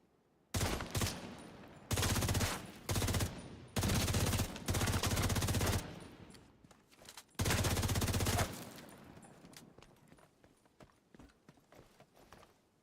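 Bursts of rapid automatic gunfire shooting pumpkins in the video game The Division 2, loud and close, coming in several long volleys separated by short pauses, then tapering into quieter scattered noise.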